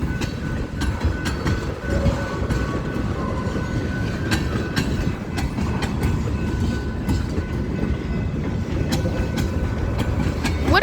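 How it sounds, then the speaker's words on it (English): A BNSF freight train led by locomotives 4162, 4227 and 4312 rolls slowly eastbound out of the yard, with steady rumbling and repeated clickety-clack of wheels over rail joints, close and continuous with no talk. "BNSF eastbound."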